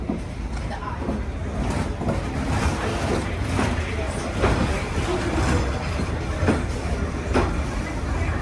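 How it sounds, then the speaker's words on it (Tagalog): A large Vietnam Railways train rumbling past up close, a loud steady roar with a series of clacks from the wheels on the rail joints, and people talking over it. "Ang laki pala ng train."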